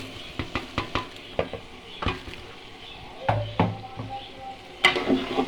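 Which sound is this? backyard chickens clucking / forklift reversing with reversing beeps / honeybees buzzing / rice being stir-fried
rice being stir-fried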